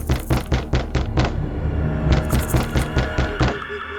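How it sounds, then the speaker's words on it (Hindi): Knocking on a door in a series of sharp, rhythmic raps, fairly close and moderately loud, a quick cluster followed by a pause and then another run of knocks. "इस बार खरोंचों के साथ हल्की सी दस्तक की आवाज भी आ रही थी, जैसे कि कोई दरवाजे पर नॉक कर रहा हो।"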